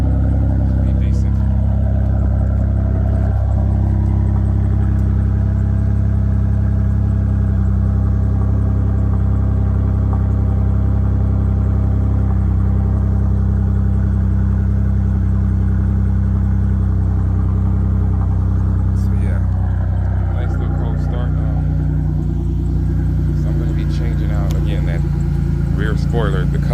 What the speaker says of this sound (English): just want to give it a nice little cold start